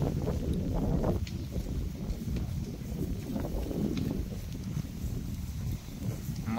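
Wind gusting across a hilltop above farm fields where buffalo graze, heard as a steady, rough low rumble buffeting the microphone for several seconds, with no clear voices.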